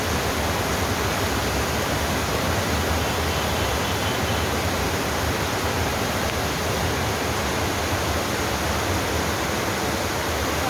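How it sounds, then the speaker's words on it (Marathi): Heavy monsoon downpour in Mumbai, a dense unbroken roar of rain that stays loud and even throughout with no gaps or voices. "कसला पाऊस पडतोय तेव्हा."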